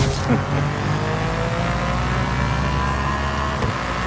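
A Cadillac race car engine in Forza Horizon 5 drones at a steady, high pitch, with a whine holding and shifting slightly as the car drives.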